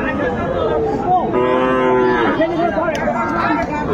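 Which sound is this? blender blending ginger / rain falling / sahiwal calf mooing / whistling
sahiwal calf mooing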